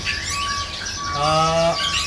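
Songbird chirping, a kept competition bird, with sharp whistled calls over a noisy background, rising into a louder rapid harmonic trill midway before easing off.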